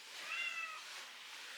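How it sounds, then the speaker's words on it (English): A pet cat named Coco meows once, a short rising call near the microphone in a quiet room, followed by calm near-silence. "And that's my cat."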